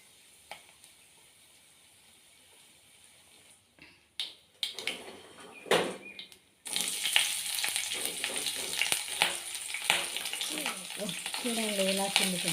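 Cumin, mustard seeds and dry chillies hit hot oil for upma, bringing a few knocks and then a sudden loud, continuous spluttering crackle that stays close and busy.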